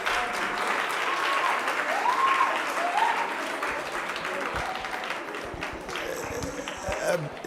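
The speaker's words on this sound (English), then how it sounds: "A round of applause," School audience at a debate competition claps steadily in a round of applause, moderately loud and continuous, with scattered voices and chatter audible beneath the clapping.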